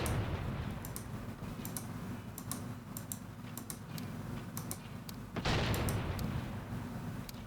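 Randomized gunshot sounds cycling through a set of shots in a Graviteam Tactics mod, heard as a steady run of sharp, regularly spaced cracks over a dense, rumbling battlefield background, with a louder burst partway through.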